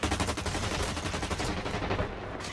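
Sustained automatic gunfire in the shooter video game Blacklight Retribution, a rapid, steady stream of loud shots that carries on for several seconds without a break, with no talking over it.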